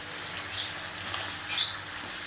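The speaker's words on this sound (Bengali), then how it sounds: "একজনে কড়াই ধরে রাখছি একজনে লাড়াড়ি করছি" Vegetables sizzle in a wok, one person holding it steady while another stirs, giving a steady close hiss broken by two brief scraping bursts.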